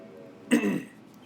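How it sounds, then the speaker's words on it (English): A single short throat clearing, close by, a brief rough rasp in an otherwise quiet moment. "I really can't clear my throat for some reason"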